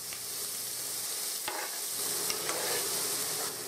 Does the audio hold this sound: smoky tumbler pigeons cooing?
no